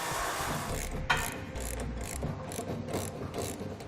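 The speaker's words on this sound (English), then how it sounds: "We need to lower our spare tire." A ratcheting winch lowers the spare tire on a 2017 Chevrolet Silverado, giving a steady run of close mechanical clicks and grinding, with one sharper clack near the start.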